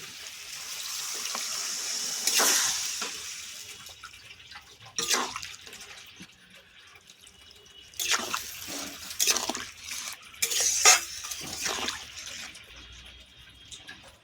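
Water poured into a pan of Bengali satin fish curry with taro and potato, heard as intermittent splashing trickles and drips in several short bursts, fairly close, with no talking.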